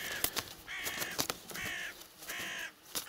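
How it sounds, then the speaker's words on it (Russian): A young crow caws three times in harsh, close, fairly loud calls, with faint scratchy handling noise between them and no speech. "Вот меня сейчас ворона обкаркивает."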